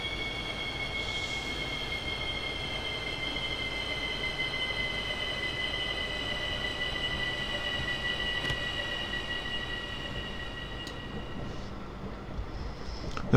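ÖBB Talent 4024 electric multiple unit braking in Train Simulator 2019 on the Arlbergbahn, a sustained high metallic wheel squeal over steady rolling rumble, fairly loud and continuous until the end.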